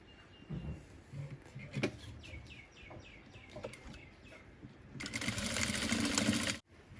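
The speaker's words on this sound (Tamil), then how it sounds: "அடுத்த பக்கம் தைப்போம்." A sewing machine stitches a gown in one steady, whirring run that lasts about a second and a half, close and clear. Before it, small bird chirps sound faintly in the background.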